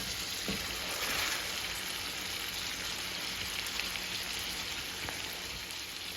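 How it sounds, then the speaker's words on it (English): Seasoned pork steaks fry in oil and butter in a cast iron skillet over medium heat, giving a steady, even hiss of sizzling that runs unbroken throughout at moderate loudness. "on medium heat in our cast iron skillet with our oil and 2 teaspoons of butter, and we got all our season on these pork steaks"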